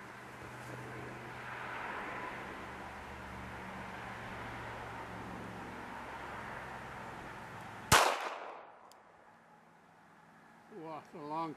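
A .380 Hellcat pistol fires a single sharp, loud shot outdoors after a stretch of steady wind-like background noise, followed by a brief voice.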